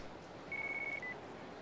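A cell phone ringing in the video game Yakuza 4: one faint, steady electronic tone lasting about half a second, then a brief lower blip, with no talk around it.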